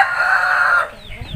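Chicken crowing loudly and steadily with harmonic calls, then a few quieter clucks and rustling at the end; part of a backyard flock of hens and a rooster.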